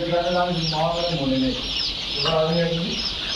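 Broiler chickens on a farm cluck and squawk in repeated bursts close by, several birds calling over one another against a steady background hum.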